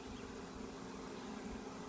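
Honeybees crawl over hive frames during a hive inspection, giving a faint, steady, low hum that holds evenly for a couple of seconds with no talking.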